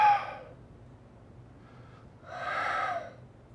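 A voice imitates unbalanced breathing: a short, sharp intake followed later by a long, loud, drawn-out exhale, close up with quiet between them.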